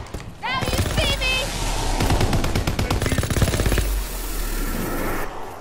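Rapid gunfire from a video game, with fast repeated shots in bursts over a steady background, close and loud, while a player talks over it.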